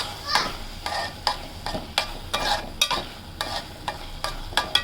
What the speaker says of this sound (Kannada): ಸೊ ಅದು ವಾಟರೆಲ್ಲ ನೀರೆಲ್ಲ ಪ್ರಾಪರಾಗಿ ಡ್ರೈ ಆಗೋವರೆಗೂ ಅದನ್ನು ಫ್ರೈ ಮಾಡ್ತಾನೆ ಇರಬೇಕು